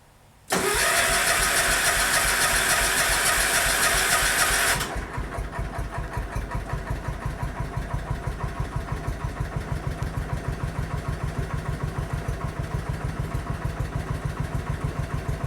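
A tractor engine cranks and catches with a loud burst, then settles into a steady, rhythmic idle chugging on its own.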